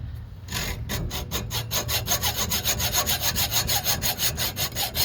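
Steady back-and-forth sawing close by, cutting off broken studs on a 1998 Acura Integra, with an even rhythm of strokes that starts after a brief pause.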